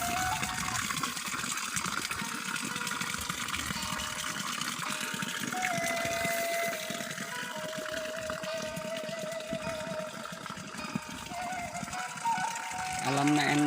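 Water pouring from a spout in terraced hillside rice fields: a continuous gushing, splashing flow with a steady hiss, heard close and unbroken. A faint voice is present in the background.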